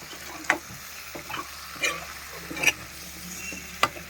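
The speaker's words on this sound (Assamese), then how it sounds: "এতিয়া মই গাহৰি মাংস আৰু ৰঙালাও দি ভাজিটো লাৰি আছোঁ" Soft, steady sizzling of pork frying in a pan, with a few sharp scraping clinks as it is stirred now and then, no voices.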